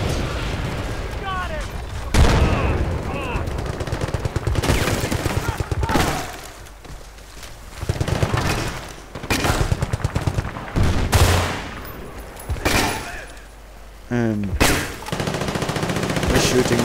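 Enemy gunfire in the video game Battlefield Bad Company 2: loud, dense bursts of automatic fire and heavy blasts, coming in repeated volleys with brief quieter gaps between them.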